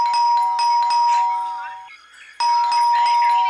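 A doorbell rings loudly and repeatedly as a rapid series of bright electronic ding tones, pausing briefly before sounding again. Indoor setting with some background voices.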